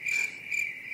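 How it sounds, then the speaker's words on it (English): Steady cricket chirping, a continuous high trill pulsing slightly in strength, close and fairly loud with nothing else heard. "Crickets."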